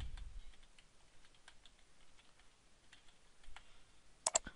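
Code being typed on a computer keyboard in Visual Basic: quiet, sparse keystroke clicks scattered irregularly, ending in a brief quick cluster of sharper taps.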